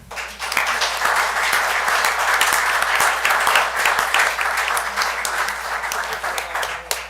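Sustained applause fills a city council meeting room, many hands clapping steadily and fairly loud for about seven seconds with no one speaking.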